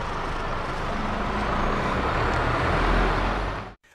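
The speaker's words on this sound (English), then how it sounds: "you can practically hear the delivery truck pulling up right now" A delivery truck pulling up, its broad engine rumble steady and close for several seconds before cutting off abruptly near the end.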